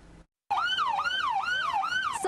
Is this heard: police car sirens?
yes